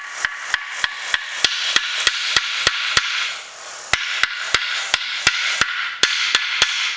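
A hammer strikes a rusty bolt on a Renault Master van's leaf spring hanger, knocking rust off in sharp metallic blows, close and loud, about twenty hits in a quick, fairly regular rhythm.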